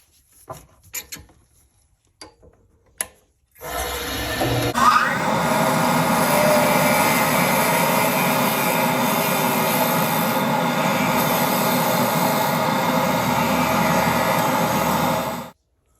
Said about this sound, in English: I want to step drill it with a 1/2 inch drill bit first